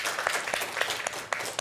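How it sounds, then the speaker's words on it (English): A conference session audience gives a round of applause, scattered individual claps standing out from a dense room-wide patter, moderately loud and steady for a short burst with no voices over it. "Another round of applause."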